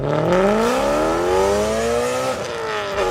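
A BMW M3's high-revving V8 winds up loud and close, its engine note climbing steadily in pitch, briefly easing, then rising again, with no voices.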